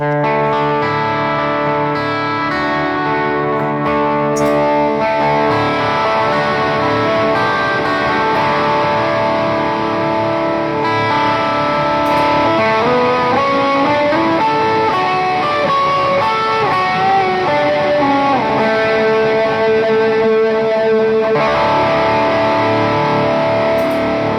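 A distorted electric guitar through a Two Notes Genome and Neural Amp Modeler rig plays sustained chords and melodic lines with effects and reverb, loud and continuous, no talking.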